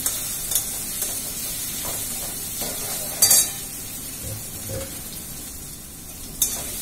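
Spices and tomato fry in a pan with turmeric and chili powder and no water added, giving a steady soft sizzle broken by occasional scraping stirs and brief clinks. There is no talking.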